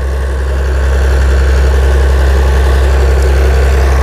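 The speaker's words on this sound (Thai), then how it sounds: "เครื่องยนต์ฮีโน่ JO7C นี่ดังดีครับผมกระหึ่มดีนะครับแรงดีเลยทีเดียวนะครับ" A Hino J07C diesel engine drives a large water pump, holding a steady, loud, deep idle with a dense low rumble and constant vibration, unbroken and close.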